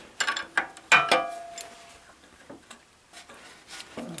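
A wrench works on a fitting of a new old stock diesel engine that is being bled, giving a few sharp metallic clicks and ratcheting taps close by, with quieter scattered clinks afterward.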